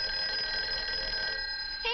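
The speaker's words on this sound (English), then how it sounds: "Hey, that's your phone, Uncle Bill." A telephone bell rings steadily and loudly for about two seconds, its bright metallic jangle continuous, in a 1960s home setting.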